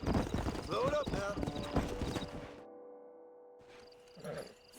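Horse hooves clip-clop on the ground in the Red Dead Redemption video game, close and quick at first with a whinny and some voices mixed in, then stopping, followed by a fainter brief sound.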